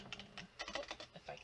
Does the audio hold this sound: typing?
yes